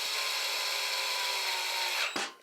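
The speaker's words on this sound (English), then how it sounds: "I'm using my drill." A power drill whirs steadily at high speed for about two seconds, then spins down abruptly and stops.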